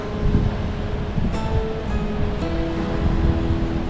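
Ocean waves wash steadily at the Bronte Beach ocean pool in Sydney, a continuous, moderately loud surf roar mixed with wind and no voices.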